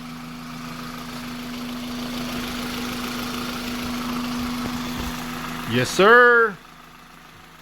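A Toyota Matrix engine idles steadily after a new starter was fitted, a constant low hum running throughout, followed near the end by a brief louder burst with a voice speaking over it.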